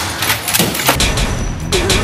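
A burst of explosions and gunfire in a battle royale shooter game, with loud booming blasts and crackling shots packed densely over a couple of seconds, with no voices.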